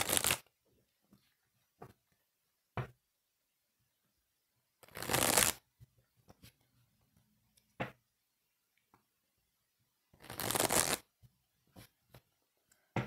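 Tarot cards shuffled and cut by hand, three bursts of riffling close up separated by quiet gaps with sharp single taps of the deck being squared and cut.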